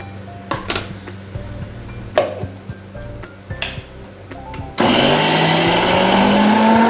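A mixer grinder grinds coconut with curry leaves, starting abruptly after a few clinks and taps into a loud, steady high whirring whine that runs to the end.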